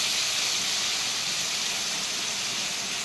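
Hilsa fish frying in hot mustard oil in a wok, a loud, dense, continuous hiss and sizzle that holds steady throughout with no talking over it.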